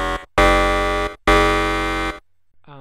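A massive synthesizer bass with a phaser effect sounds two loud, sustained buzzy notes with abrupt starts and cutoffs, followed by a short faint tail.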